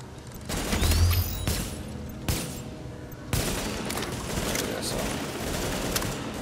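Gunshots in the shooter game The Division: a few sharp, loud cracks spaced a second or two apart, with a steady backdrop of combat noise between them.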